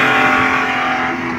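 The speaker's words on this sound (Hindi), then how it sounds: "चलिए आप यहाँ से गाड़ी आगे लीजिए" A car engine running steadily as the car is driven forward up a hill during a driving lesson, a constant loud hum with no voices.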